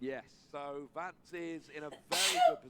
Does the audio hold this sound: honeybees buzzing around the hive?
no